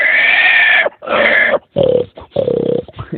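A voice imitates a wild boar's squeal: several loud, strained, harsh squealing bursts in quick succession, close up, separated by short pauses.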